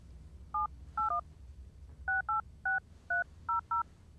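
Telephone keypad tones sound as a phone number is entered on an automated account line: nine crisp dual-tone beeps in an uneven run, quiet over a low hum, with no talk.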